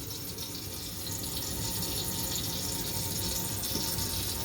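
Water runs steadily through a sink drain beneath a garbage disposal unit, a continuous rushing flow that grows slightly louder after the first second, with no talking.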